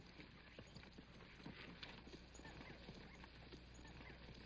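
A horse's hooves clip-clop in a steady, moderately close walking rhythm in a 1962 western film scene, with faint background noise and no clear talking over them.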